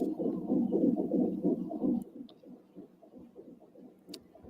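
A heartbeat sound effect with a ghost ship scene: low, muffled rhythmic thumps, loud and dense at first, then softer, steady pulsing beats, with no voices.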